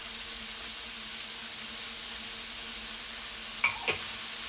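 Diced shallot and minced garlic sauteing in a pan, a steady soft sizzle throughout with a couple of brief utensil scrapes near the end, no talking.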